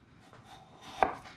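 A kitchen knife slices potatoes into fries on a cutting board: faint soft cuts lead into one sharp, loud chop, heard up close with no talking.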